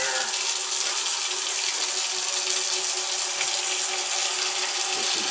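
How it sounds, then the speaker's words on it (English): Hot water runs from a tap into a pan in a steady, continuous hiss and splatter throughout, close and even in level, with no voices over it. "Start putting some hot water in there."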